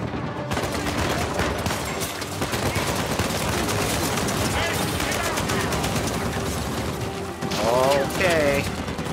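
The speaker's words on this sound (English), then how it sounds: "I would appreciate it if you stopped shooting at me." Dense sustained gunfire from an Uncharted 4 chase sequence, with rapid automatic bursts and impacts packed tightly together under game noise, and a voice speaking briefly over the clatter.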